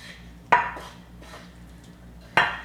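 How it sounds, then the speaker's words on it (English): Sautéed, spiced vegetables are tipped into a cooking pot for a Moroccan chickpea stew, with two sharp clanks of a utensil against the pot and soft scraping between them, close and without talk. "I'm going to add those vegetables that I sauteed and added spices to."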